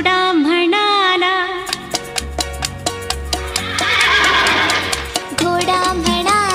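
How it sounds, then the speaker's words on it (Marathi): At a preschool annual day show, a loud horse whinny with a falling, wavering pitch opens the passage, then gives way to a bright, rhythmic music track. "घोडा म्हणाला ध्यानात धरीन मीही माझ्या शेपटीने असेच करीन"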